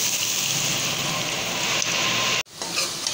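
French fries dropped into hot oil, giving a loud, steady broadband sizzle with dense crackle throughout, a sudden brief break near the end, then the frying hiss resuming slightly lower.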